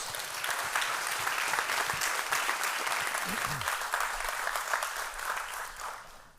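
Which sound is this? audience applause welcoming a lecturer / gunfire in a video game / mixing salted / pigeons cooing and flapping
audience applause welcoming a lecturer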